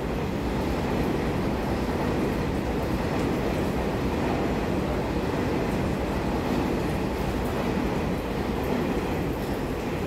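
A twelve-car EMU3000 Tze-Chiang express train runs through Ruifang station in Taiwan, making a steady, loud rolling roar of wheels and carriages that holds throughout without talk.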